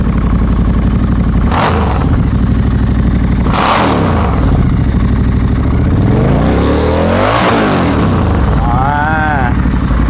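A Triumph Scrambler 1200 XC motorcycle engine revs repeatedly, loud and close, with sharp rising throttle blips rumbling through the exhaust over a constant idle.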